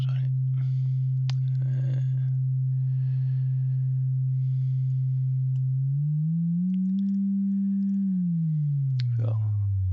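A pure sine tone from a synthesizer oscillator hums steadily, then glides upward, holds, and slides back down below its starting pitch, while someone speaks quietly over it with a few clicks.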